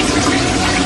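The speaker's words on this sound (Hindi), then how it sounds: "बाथरूम में फ्लश करके" A toilet flushes in a bathroom, a loud, close rush of gushing water filling the whole short moment without any voices.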